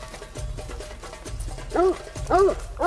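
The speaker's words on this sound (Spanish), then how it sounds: "el perro hace su trabajo, nos ladra, nos avisa" A hunting dog in theHunter Call of the Wild, on a savanna hunt, gives two loud, close barks in quick succession over faint background game ambience.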